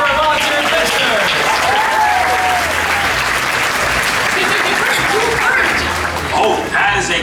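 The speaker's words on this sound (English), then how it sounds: "How about a round of applause for our volunteer adventurers?" Crowd applause at a live bird show in a theme-park amphitheater, broad steady clapping from a large audience while a voice talks over it and birds whistle briefly.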